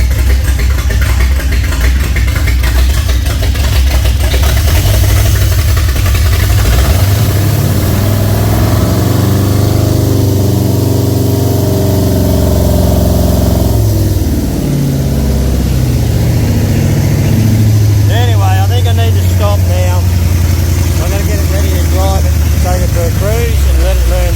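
Ford 302 V8 with Holley Sniper 2 fuel injection idling rich, a loud steady low rumble with a slight rev swell mid-way, close by, with someone talking over it.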